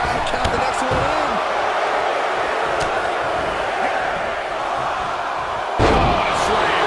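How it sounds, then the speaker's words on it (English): A heavy wrestling slam in the video game WWE 2K22 lands amid a roaring arena crowd during a Royal Rumble match, with an excited commentator talking over the constant cheering noise. "Oh, what a slam."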